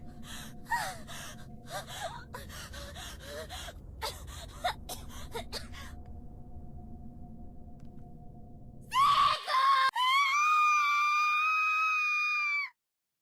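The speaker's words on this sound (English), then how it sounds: "it just skipped through the Seiko scream by itself." A female character in the horror game Corpse Party screams loudly and shrilly near the end, with a sustained piercing cry after a sharp gasp, following several seconds of quieter breathy gasps and a long silent pause.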